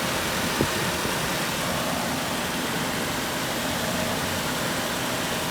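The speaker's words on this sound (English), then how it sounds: "16 valve, 4-cylinder engine. Running pretty smooth, pretty quiet." A 2002 Mazda Protege DX with a 16-valve four-cylinder engine idling smoothly and quietly, a steady even hum with no revving or voices.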